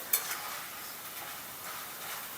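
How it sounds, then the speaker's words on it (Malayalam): Steady hissing sizzle of salt water sprinkled into hot oil frying jackfruit, with a brief sharp spatter near the start and continuous crackling throughout. "അത് ഈ തിളച്ച് കിടക്കുന്ന എണ്ണയ്ക്കകത്തോട്ട് വന്ന് വീഴുമ്പോഴാണ് അങ്ങനെ പൊട്ടിത്തെറിക്കത്തില്ലേ"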